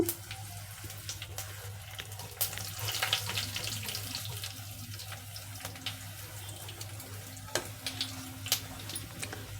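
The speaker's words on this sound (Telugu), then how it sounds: "ఇందులో చూడండి జీలకర్ర ఆవాలు ఎండుమిరపకాయలు చుట్టపట్లాడుతున్నాయి కదా" Cumin, mustard seeds and dried red chillies crackle and pop in hot oil, a steady low sizzle broken by scattered sharp spits and snaps, close and moderately loud with no talk.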